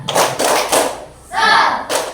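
A classroom of students clapping a rhythmic spirit clap, loud claps in short bunched bursts separated by brief pauses, with voices mixed in.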